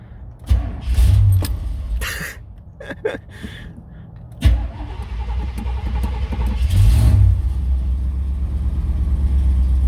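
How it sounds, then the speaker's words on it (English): A car that struggles on a cold start cranks and fires after a few tries, then settles into a steady idle with a couple of revs, close and loud, with no speech. "I might as well give you a cold start"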